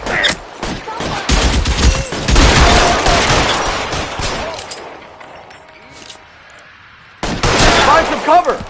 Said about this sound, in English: These guys aren't going to go quietly. Open fire!